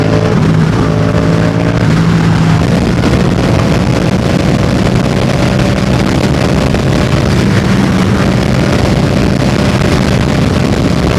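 A Yamaha MT-07 motorcycle engine drones loudly at speed, with heavy wind buffeting over the steady roar throughout.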